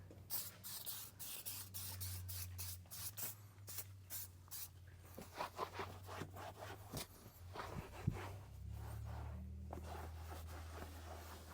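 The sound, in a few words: spraying cleaner onto a car seat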